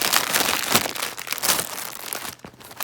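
Plastic film packaging torn open by hand and crinkled, giving a continuous close, loud crackling and rustling with sharper crunchy bursts, no voice over it.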